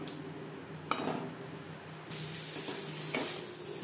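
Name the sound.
stirring bottle gourd leaf paste drying in a wok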